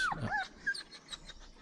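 A reactive dog whines in high, falling whimpers, one after another, fairly close and loud at first, then fading into softer, fainter whines.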